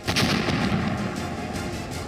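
Bomb blasts in Gaza from news footage, a dense series of heavy booms and crackling bursts with a continuous rumbling background and no voices.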